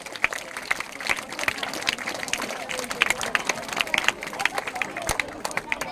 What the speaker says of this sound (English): Give her huge round of applause for Trishita.